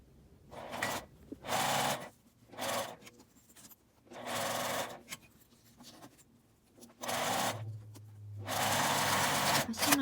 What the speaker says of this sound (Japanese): 端ミシンをかけます。